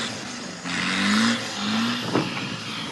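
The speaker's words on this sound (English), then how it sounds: "We hear the unmistakable sound of Whittam and Needham in the Mercedes engine buggy" Mercedes-engined rally buggy at a Welsh rally stage, its engine note rising and falling through two revving pulls, fairly close and loud, ending with a sharp burst.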